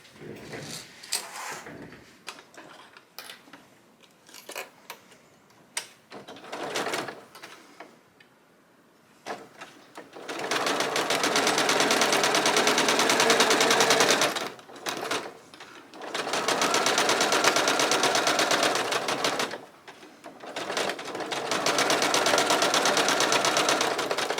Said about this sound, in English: I'm going to sew this 1/4 of an inch